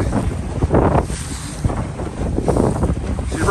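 Rough sea waves slap and wash over the bow of a sea duck hunting boat in surging bursts, mixed with strong wind buffeting the microphone.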